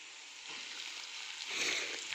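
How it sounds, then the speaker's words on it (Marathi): Spring onion greens dropped into a hot frying pan for a Maharashtrian kandapat dish, giving a steady sizzle that swells louder near the end, with no talking. "आता आपण लगेच आपली कांद्याची पात याच्यात टाकून घेऊया"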